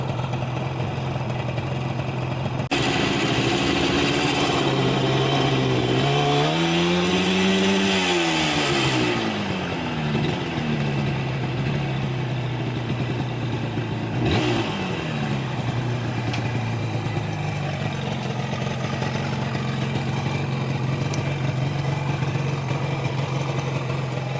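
A two-stroke Yamaha RD200A vintage motorcycle engine idles steadily, then revs up and down in a couple of rising and falling sweeps before settling back to a loud, continuous drone.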